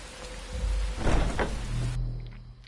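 Steady rain patters in Skyrim, swelling into a louder hiss in the middle before an abrupt cut leaves a low hum and faint ambience.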